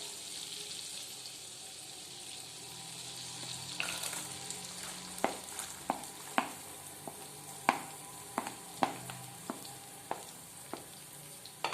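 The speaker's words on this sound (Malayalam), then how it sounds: "ഇനി നമുക്ക് ചെറുതായിട്ട് അരിഞ്ഞു വെച്ചിരിക്കുന്ന സവാള ഇട്ട് കൊടുക്കാം." Chopped onion hits melted butter for pav bhaji and starts a steady sizzle, then a spoon scrapes and taps the pan in a loose rhythm of sharp knocks over the frying.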